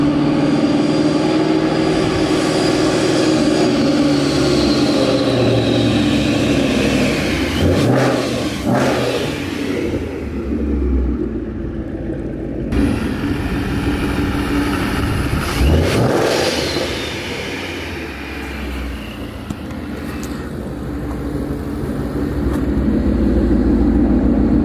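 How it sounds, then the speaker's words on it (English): Ford Mustang V8 fitted with a Paxton Novi 2200 SL supercharger on a base tune, running loud and close after first startup, with steady idle, a few sharp revs and a brief dip before it rises again. "The car sounds super healthy, and you know, for the bass tune, it's actually doing really well."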